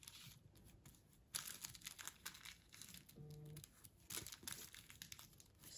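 Thin paper is scrunched and pinched by hand to form sewing ruffles, giving faint, close crinkling and rustling bursts at irregular intervals, with no talking.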